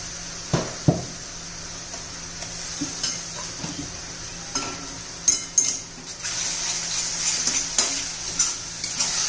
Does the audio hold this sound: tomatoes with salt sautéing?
yes